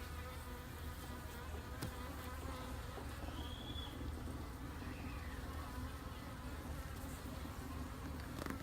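A honeybee swarm drones around a painted hive, a steady close buzzing of many bees with individual insects whining past, and no talk.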